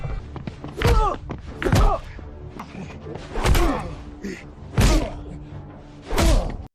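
Movie bar brawl: a run of heavy thumps and thuds land roughly every second and a half, each a loud impact over a busy background with some faint voices.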